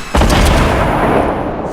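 Booming gunfire in a solo shooter video game, a heavy shot bursting in after a brief lull, followed by a loud, dense rumble with a few sharp follow-up cracks, close and sustained.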